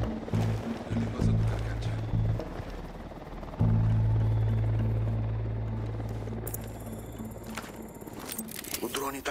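A helicopter arrives in the video game Operation Oracle, a steady, loud, low rotor drone that fills the whole stretch and swells midway, with voices talking over it.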